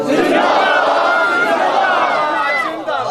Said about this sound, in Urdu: ایک نعرہ مارو تاکہ نعرے دی آواز انجی دی آگے پتہ لگے